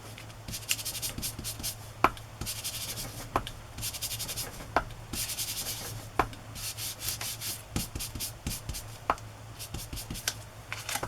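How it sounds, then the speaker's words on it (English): Ink color rubbed by hand over white embossed paper while building a layered tag, a steady papery scrubbing and sanding texture with repeated short strokes, close and fairly quiet. "So I'm just going to rub some of this color over it."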